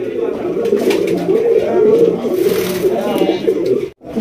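A pigeon coos loudly and continuously up close, its low throaty rolls repeating, with a short drop-out near the end.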